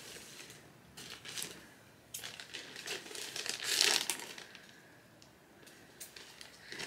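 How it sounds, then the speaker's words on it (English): Soft crinkling of a plastic wrapper being handled and cut with scissors, with a louder rustling burst midway, close and quiet. "I am going to cut this with scissors, so hopefully it's not too crinkly."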